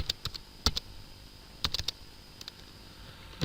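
Code being typed on a computer keyboard: sparse, quiet key clicks in small bursts with uneven pauses, close up and alone against a faint background hiss.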